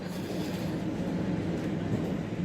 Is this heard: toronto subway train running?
yes